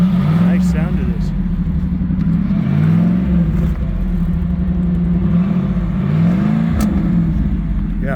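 A 1991 Pontiac Firebird Trans Am GTA hardtop coupe runs its engine, a steady loud idle rumble that rises and falls in a few repeated rev swells, close to the microphone with no talk over it.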